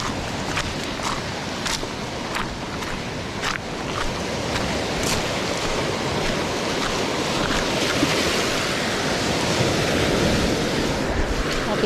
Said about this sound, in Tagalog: Pero malakas din dyan mga katangay yung alon.